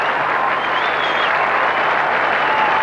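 A cricket crowd of 9,500 at Chelmsford applauds a six in a 1981 John Player League match between Essex and Middlesex, loud, steady and sustained clapping with no voices over it.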